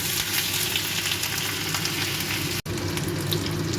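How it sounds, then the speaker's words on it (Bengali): Grated ginger sizzles in hot oil with already-fried panch phoron, a steady close broadband frying hiss running throughout with one brief dropout near the end, no voices. "এরপর আমি 1/2 চামচ আদা গ্রেট করে দিলাম।"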